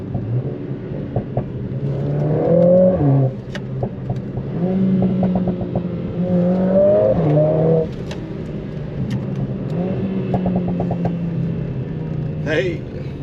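A Mercedes-AMG A45 S revs hard several times on a Scottish road drive, close and loud, its engine note climbing in repeated surges with scattered sharp exhaust pops and crackles between them.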